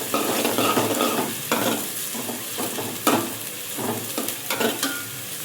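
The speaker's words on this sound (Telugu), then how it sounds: "మీడియం సైజు ఒక ఉల్లిపాయ, ఫ్రై చేసుకోవాలి." Onion sizzles steadily in hot oil in a pan while a spoon stirs it, with scraping strokes recurring every second or so over the continuous frying hiss.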